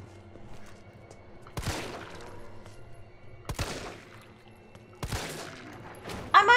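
Three sharp gunshot bursts from the Resident Evil 3 video game ring out at spaced intervals over a low game ambience, ending with a louder clatter.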